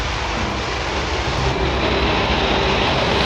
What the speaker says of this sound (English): Those engines are super powerful.